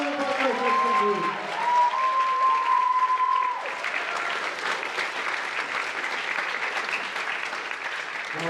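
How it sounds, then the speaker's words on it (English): A concert audience claps for the freshman band at a high school concert, with sustained applause throughout and a brief whistle-like tone near the start. "Give a round of applause for our freshman group"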